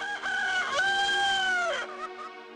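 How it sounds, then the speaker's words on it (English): A single rooster crows close and loud, one long cock-a-doodle-doo that trails off, with no talking. "And immediately a rooster crowed."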